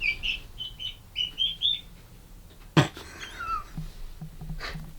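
Chicks chirp up close in a new coop, with several quick high peeps in short bursts, then a sharp knock and scattered faint calls.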